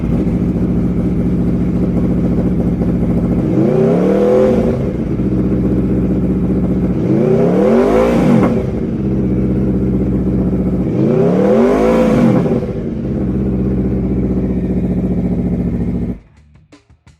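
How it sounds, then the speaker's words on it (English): A 2017 Aprilia Tuono V4 1100 RR Factory motorcycle idles loudly up close, its engine revved three times in evenly spaced blips that rise and fall, then cuts off abruptly at the end. "see and hear the bike in person"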